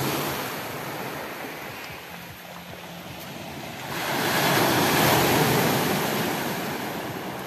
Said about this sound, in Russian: К вечеру, кстати, море становится более волнистым.